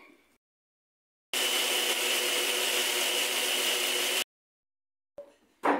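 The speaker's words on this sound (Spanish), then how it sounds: "poner nuestras galletas en la licuadora y las vamos a licuar hasta que se hagan polvitos" Kitchen blender grinding Marie cookies into a fine powder: one loud, steady whirring burst of about three seconds, with quiet pauses and brief clatters before and after.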